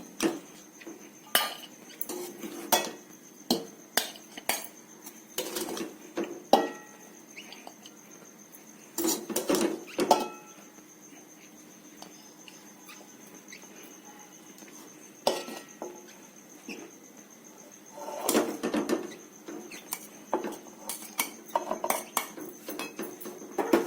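A spoon scoops vegetable biryani into a serving bowl in a series of close metallic clinks and scrapes, some clustered in quick bursts, over a faint steady high hum.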